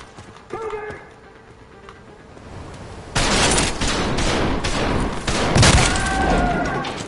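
Bursts of rapid gunfire from the video game Trepang2 come in loud, dense volleys after a quieter opening, with brief pauses between strings of shots.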